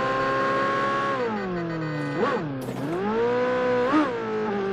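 A high-pitched McLaren sports car engine in PUBG Mobile revs up and drops, then climbs again with a couple of short revving bursts, clean and close like a game sound effect.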